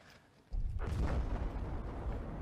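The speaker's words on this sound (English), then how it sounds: "And that explosion is being ray traced again in the whole environment, how you would expect." A deep, rumbling explosion erupts in a ray-traced video game, booming suddenly after a quiet moment and sustaining a loud, rolling roar that fills the rest of the clip.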